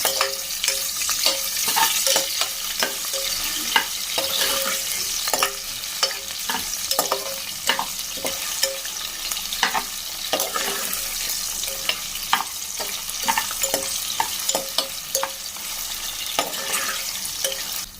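Vegetables fry with spices in a pan for veg biryani, a dense, continuous sizzle and crackle with steady stirring scrapes throughout, loud and close.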